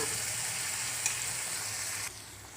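Ground coconut and mustard paste frying in a pan for chitranna rice, a steady low hiss of sizzling oil that runs evenly and faintly, with one small click midway and a slight drop in level near the end.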